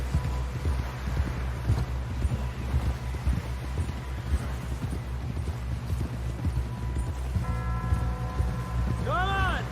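Horse hooves clip-clopping at a steady run in the Red Dead Redemption 2 video game, a continuous rhythmic patter under wind noise, with a short whinny near the end.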